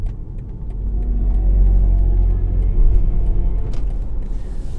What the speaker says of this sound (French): Je vous fais écouter la musique de Hans Zimmer, le compositeur de Pirates des Caraïbes